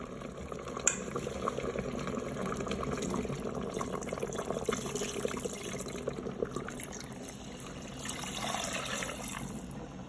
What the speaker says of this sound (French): Au bout de 4 minutes, je vais ajouter 1 litre d'eau.